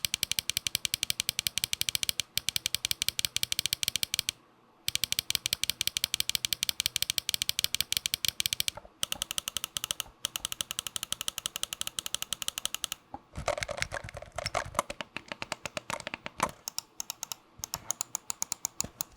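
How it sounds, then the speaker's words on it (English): SteelSeries Prime Plus mouse buttons clicked in close, rapid bursts, crisp sharp ticks firing in fast runs with brief pauses between, heard up close and alone. "I just don't know what made them choose these mouse clicks instead of anything else."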